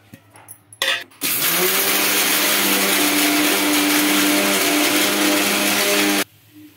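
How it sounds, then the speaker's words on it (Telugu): A mixer grinder grinding sesame seeds and dried coconut starts with a brief burst, then runs loud and steady for several seconds before cutting off abruptly. "ఇవి చల్లారిన తర్వాత అయితే మిక్సీకి అయితే పట్టుకుందామండి."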